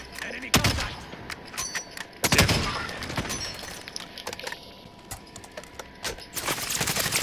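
Gunfire in Call of Duty Modern Warfare Warzone: sharp close shots and bursts crack out in irregular clusters, some heavy and booming, with a player talking faintly between them.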